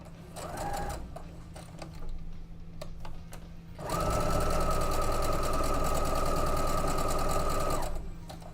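A sewing machine stitches quilt rows, its fast needle chatter running in short bursts at first and then settling into a long, steady, close run before stopping.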